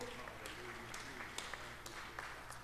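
Congregation clapping hands in a church service, a faint, scattered patter of claps with a few sharper hits, distant and low, over a quiet hum of the room.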